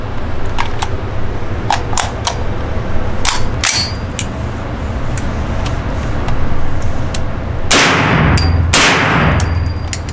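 Suppressed shots from an Air 500 rifle fitted with a Barron suppressor, several sharp cracks spaced irregularly, with a louder, longer pair of reports near the end, outdoors at a shooting range.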